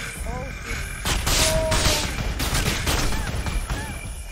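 Gunfire in a paranormal assault video game comes as a loud, dense rattle of rapid shots over several seconds, with voices talking under and between the bursts.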